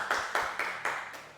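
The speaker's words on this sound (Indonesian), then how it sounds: "tepuk tangannya dong teman-teman" Classmates in a classroom clap together in a short, quiet rhythm of about five evenly spaced beats, each clap ringing briefly in the room.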